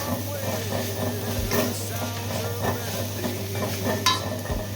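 Mushroom curry with coriander leaves being stirred and fried in a pan, a steady close sizzle under repeated scraping strokes of a spoon, with a low constant hum beneath.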